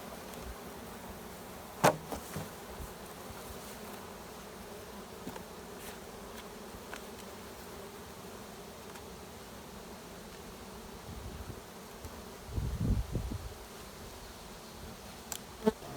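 Honey bees in an open hive during requeening give a continuous, moderately faint buzzing drone, with a few close rustles and bumps from handling the frames.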